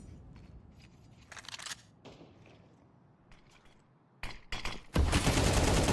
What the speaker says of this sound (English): giving away his presence as he shoots a player down to 73 points of damage